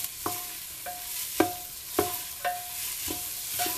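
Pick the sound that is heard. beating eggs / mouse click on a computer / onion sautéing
onion sautéing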